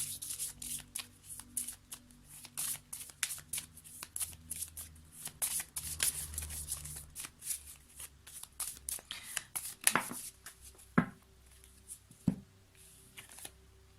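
Tarot cards are shuffled by hand in a quick run of soft, crisp riffling flutters close to the mic, followed by a few sharper card taps and handling sounds, with faint speech in the background.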